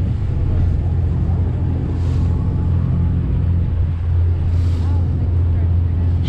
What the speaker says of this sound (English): Heading out on the Miller Ferry.